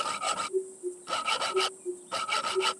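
Handsaw rasping through a large tree branch in a survival video game, three loud bursts of back-and-forth strokes with short pauses between, close and alone.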